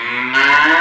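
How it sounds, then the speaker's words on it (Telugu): A buffalo lets out a single loud, close bellow, a short low moo that swells in strength halfway through. "అల్లుడు బర్రెలు అరుస్తున్నాయంటే"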